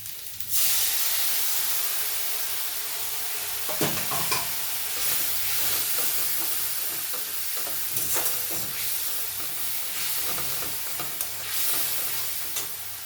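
Snail meat cooks in a pan with a little water just added, giving a steady, close sizzle and steamy hiss across the whole stretch, broken by the scrape and clatter of a spatula stirring.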